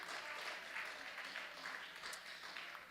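Audience applause at a live music show, a dense steady patter of clapping that stays fairly faint and distant throughout.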